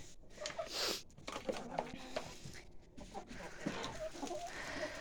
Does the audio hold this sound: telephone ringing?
no